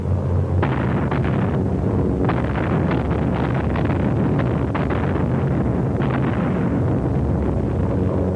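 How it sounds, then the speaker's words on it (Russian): Anti-aircraft guns firing at enemy planes in 1942 wartime footage, a dense, continuous roar of booming shots and rumble, loud and distorted, with repeated heavy bursts throughout. "Подступах к базе зенитки капитана Пророкова встречают врага."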